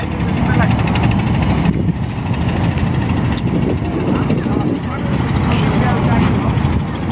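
A trawler boat on a river crossing between ghats near Dhaka, its engine a steady loud droning rumble throughout, with wind and ambient noise; no talk is heard over it.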